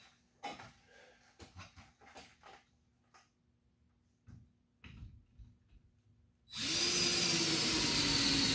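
Quiet handling clicks and knocks give way to a drill boring into wood with an 11/16 paddle bit, a loud steady whine that starts abruptly near the end and runs to the close.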